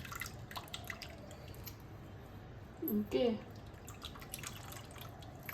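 Soaked tamarind is squeezed by hand, releasing its water over cut pumpkin. It makes one brief, quiet wet squish and trickle amid faint kitchen noise, and a voice is heard briefly.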